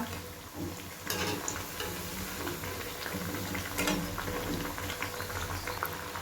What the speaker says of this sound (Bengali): একইভাবে বাকি বড়াগুলোকেও ভেজে তুলে নিব